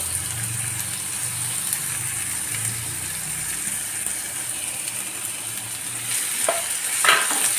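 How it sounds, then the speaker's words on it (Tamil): Pirandai fries in sesame oil with garlic, a steady close hiss with a low rumble early on and a couple of louder spatters and stirs near the end, no voices. "பிரண்டையை வந்து நல்லா நல்லெண்ணெயில் நல்லா வறுத்துடணும் அதில் வெள்ளை பூண்டு போட்டுருவோம்"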